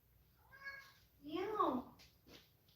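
A cat meows twice in quick succession, a short mid-pitched call followed by a louder, drawn-out wavering meow, close and clear against quiet background hum, then a faint trailing sound.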